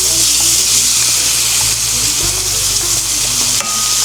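Pork chops with fresh vegetables fry in a pan with a steady, dense sizzle throughout, a few soft clinks and shifts of the food breaking through, and no one talking.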